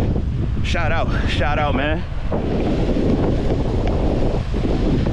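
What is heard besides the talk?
wind blowing by the water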